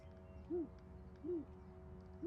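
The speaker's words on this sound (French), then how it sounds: "That darn owl." An owl hoots in the Anna's Quest video game, three evenly spaced, short, soft hoots over a quiet game ambience.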